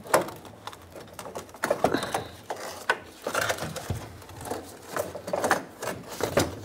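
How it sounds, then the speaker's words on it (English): A bolt and nut are worked loose from the fuel vapor charcoal canister on a 2007–2014 Chevrolet Silverado 2500 HD, giving close, irregular metallic clicks, ratchet-like taps and scrapes at a moderate level. "Remove that bolt and the nut."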